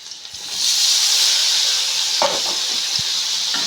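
Chopped tomatoes sizzle and hiss steadily in a hot pan while upma is being made, a loud, continuous frying hiss with a faint clink or two of stirring and no talking.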